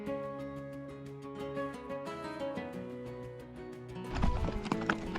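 Horse hooves walking on a rocky mountain trail on the way up Rainbow Mountain, a steady clip-clop beneath tonal music, growing louder and busier near the end.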